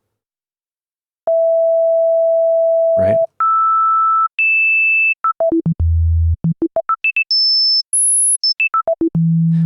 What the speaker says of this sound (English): a digital synth can't recreate a sine wave